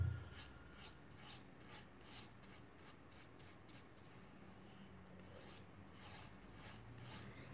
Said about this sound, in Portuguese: eu passo o rolo para tirar o excesso do verniz aqui.